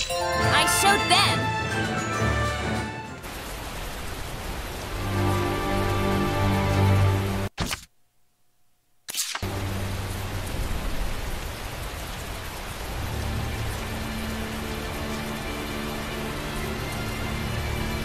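Rain falls in a video game, a steady hiss of drops hitting surfaces, mixed with tonal game music and a brief cut to silence midway before the downpour resumes.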